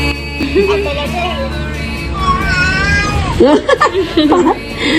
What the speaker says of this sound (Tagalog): Parang may pusa sa bubong nyo ah.